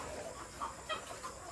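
A few soft, short clucks from native chickens at a modest distance over a quiet outdoor background.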